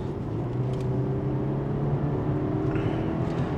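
A BMW 420i Coupe engine roars with a deep, steady rumble as it accelerates hard in sport mode, loud and close throughout.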